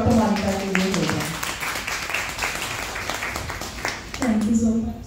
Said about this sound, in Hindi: एक बार जोरदार तालियां डॉक्टर मोनिका के लिए हो जाए